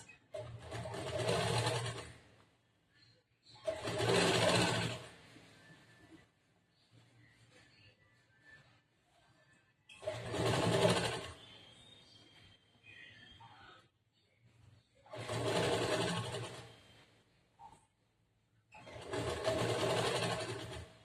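A sewing machine runs in five separate bursts of a second or two each, double-stitching a blouse collar. Quiet pauses fall between the bursts, with faint low sounds in the gaps.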